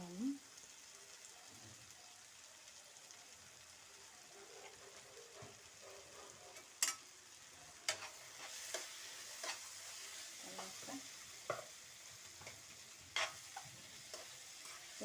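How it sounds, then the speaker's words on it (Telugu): Tomatoes with chili powder sizzle quietly in a pan, a soft continuous fry with occasional stirring clicks and scrapes, faint and close. "టమాటా అంతా మగ్గిన కారం వేసుకున్నాము."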